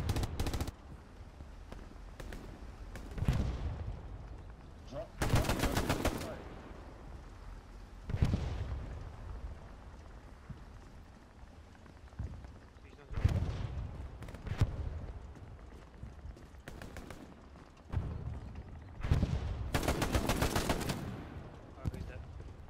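Sporadic booms of artillery and gunfire from the video game Hell Let Loose, arriving as separate heavy bursts every few seconds over a low rumbling battlefield background, some sharp and close, others duller.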